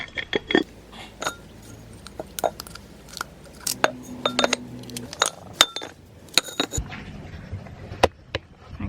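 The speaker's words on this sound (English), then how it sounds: "I'm going to take off the stickers off all of these pots" Plastic plant pots handled while stickers are peeled off them, giving scattered sharp clicks, taps and crinkly knocks at close range, with a brief low hum in the middle and no talking.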